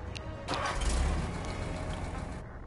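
Tank engine in a video game vehicle selection menu, a burst of engine noise that starts up and settles into a steady low rumble before cutting off near the end.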